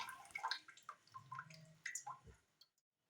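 Water poured from a jar into a cooking pot to be boiled for pickling tomatoes, heard as soft splashing and dripping in a quiet kitchen, with a few gurgling spurts that trail off near the end.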